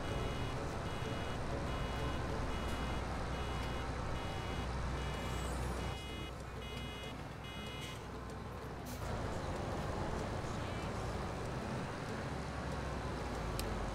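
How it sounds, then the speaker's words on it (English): Reversing beeps sound from a vehicle in the Farming Simulator 17 video game, a steady repeating beep over constant engine and machinery noise that drops briefly midway and then returns. "That beeping though."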